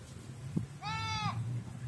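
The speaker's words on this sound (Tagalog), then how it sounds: "Marami siyang kambing dun." Goats on a farm bleat once in a clear, fairly close, wavering cry over steady outdoor background noise.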